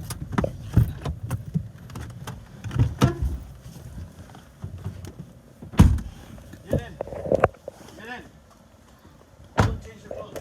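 A car door thuds and people shift about getting out of a parked car at a home in Texas, with sharp clunks and rustling spread across the scene and someone speaking in between.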